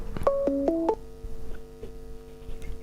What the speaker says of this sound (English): I'm getting a phone call.